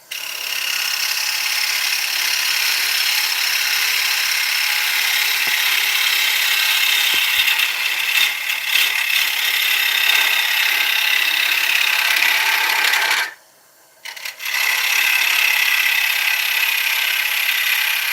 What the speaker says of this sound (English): Let that lathe spin that wood and let the bowl down cut it